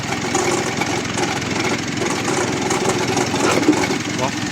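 Noisy engine of a Mitsubishi L200 idling with suspected turbo noise and a damaged air cleaner, a loud, steady, close mechanical drone with a rough rattle, under someone speaking.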